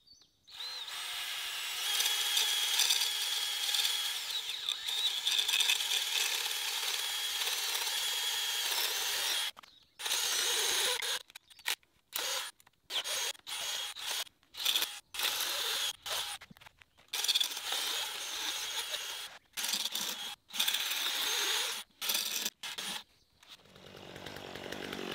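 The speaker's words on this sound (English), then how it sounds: "Now, time to get out the drill. I've got a 1-inch paddle bit." A power drill fitted with a 1-inch paddle bit bores into a burnt tree stump outdoors, giving a loud continuous whine for about ten seconds, then a run of short, stop-start bursts as the bit bites in and releases.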